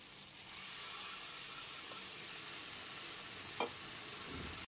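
Tomato paste going into ground spices frying in oil over a low-to-medium gas flame, with a steady close sizzle and hiss, a few faint stirring scrapes and one brief clink near the end.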